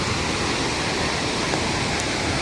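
Rushing water at Thoovanam waterfall makes a steady, dense roar that stays close and unbroken throughout, with no voices over it.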